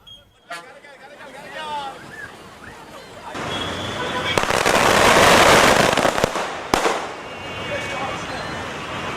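Firecrackers burst by farmers in Nagapattinam celebrating the Mettur dam opening, a dense loud crackling barrage swelling midway over crowd hubbub, with single sharp bangs at the start and near the end.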